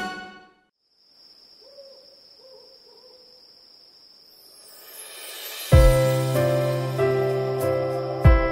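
An owl hoots softly several times over a steady, high cricket-like chirr in a children's party song, before loud, bright music bursts in and carries on to the end.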